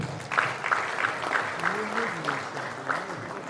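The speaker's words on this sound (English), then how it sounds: "Please join me in applauding the National Journalism Awards Committee" Audience applauding at a journalism awards ceremony, a steady wash of clapping that swells and fades over a few seconds, with a voice speaking underneath.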